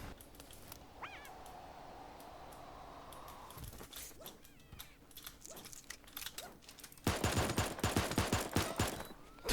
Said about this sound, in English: Didn't hit me once with that shotgun.